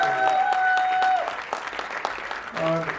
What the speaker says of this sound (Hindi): एक बार गमक इंटरटेनमेंट के लिए तालियां बजाइए, बहुत जरूरी है।